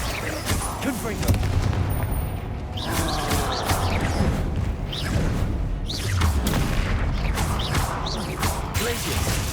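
Confringo fire spells blast repeatedly during a Hogwarts Legacy duel, loud crackling bursts and booms overlapping in quick succession over a constant roar of combat.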